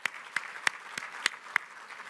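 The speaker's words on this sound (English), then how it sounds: "So please give him a big round of applause." Audience applause at a hotel marketing meeting in Washington, DC, fairly faint and distant, a soft wash of clapping with a few sharper individual claps popping out.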